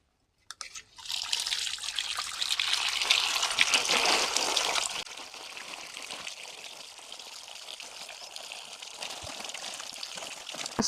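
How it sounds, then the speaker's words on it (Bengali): Tap water running while rohu fish is washed: a strong, close gushing stream that eases after a few seconds into a steadier, softer flow of splashing water, with no talk. "আমি এখন ধুয়ে নিচ্ছি।"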